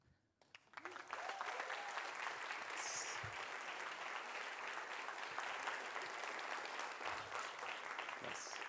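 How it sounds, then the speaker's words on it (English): Audience applause breaking out after a quiet start, a sustained, steady wash of clapping that stays even and full for several seconds, with a few faint voices underneath. "Now's the time for the thunderous applause."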